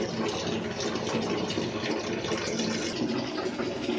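Water rushes back out of the opened inlet line of an electric geyser, a continuous, close, dense gushing that stays even from start to finish without talk.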